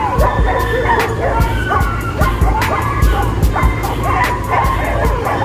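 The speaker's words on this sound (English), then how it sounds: "Excuse the dogs in the background, we have a noisy neighborhood." Several dogs bark repeatedly in the background, with a steady run of yips and barks layered over a busy outdoor hum.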